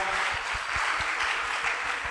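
A crowd applauding steadily, dense clapping with a few distinct claps standing out, continuing without talk.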